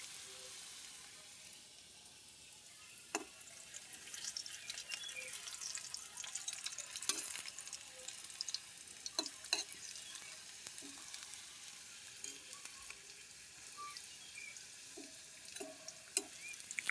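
Thick-cut pumpkin pieces frying in a pan, a soft, steady sizzle with occasional light stirring taps and clicks, faint and close, without any talk.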